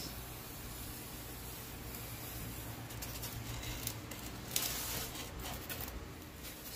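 Large sheet of craft foam being cut into pieces for a foam character prop, giving soft, steady scraping and slicing noise with a few brief louder snips, close and alone with no talk.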